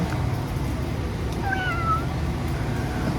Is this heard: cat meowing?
yes